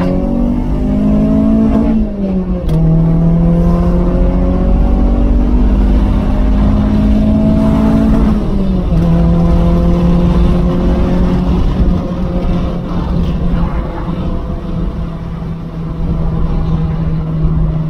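A K-tuned B-series car drives on a relaxed Sunday outing, its engine droning loudly with rising pitch sweeps as it accelerates through the gears, heard from inside with no talk.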